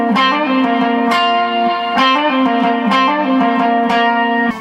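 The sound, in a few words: guitar with octave and modulation effects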